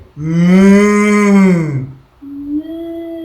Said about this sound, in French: C'est qui fait ça? C'est la vache? Oui, c'est la vache.